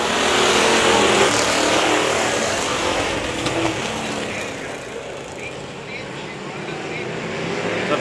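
Race cars in a 25-lap Thundercars race at Indianapolis Speedrome, a dense steady roar of engines on track, loud and continuous, with a voice talking over it.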